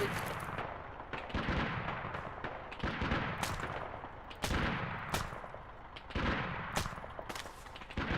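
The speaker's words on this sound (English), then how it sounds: "They're gonna shoot us with an AT system." Sustained gunfire in the military game Arma 3, a dense stream of sharp rifle and heavier weapon bursts, some close and loud, others rolling further off, filling the whole stretch with barely a pause.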